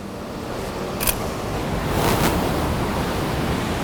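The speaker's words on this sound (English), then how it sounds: "Is a wave coming?" Ocean surf rushes and roars continuously at Laguna Beach, a wave swelling louder partway through, with wind buffeting the microphone.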